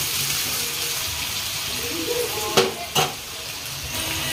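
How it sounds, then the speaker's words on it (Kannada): Onions sizzle in hot oil in a home kitchen while egg rice is made, a steady broadband frying hiss with two sharp clinks of a utensil against the pan near the end. "ಎಣ್ಣೆ ಬಿಸಿ ಆಗೈತಿ ಎಣ್ಣೆ ಒಳಗೆ ಹಾಕೊಂಡ್ಬಿಟ್ಟೆ ನೋಡ್ರಿ ನಾ ಉಳ್ಳಾಗಡ್ಡಿ ಆಗಲ್ಲ ಸ್ವಲ್ಪ ಏನೋ ಫ್ರೈ ಮಾಡ್ಕೊಂಡ್ಬಿಟ್ಟೆ"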